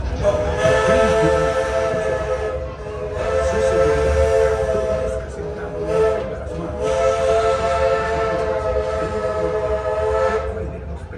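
A Magic Kingdom railroad train rumbles steadily along the tracks while a loud steam whistle sounds in long repeated blasts over the clatter.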